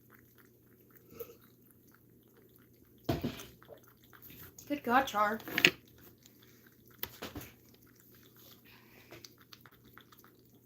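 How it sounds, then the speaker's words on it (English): A pet named Charlie laps water close by, wet slurping bursts clustered in the middle with short drips around them, while a person talks briefly over it. "Charlie decided drinking water in front of the camera was the best option for him"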